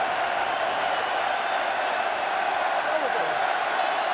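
A wet, windy rugby stadium crowd at an autumn international between Wales and South Africa keeps up a steady, dense roar of cheering from a distance, unbroken across the moment.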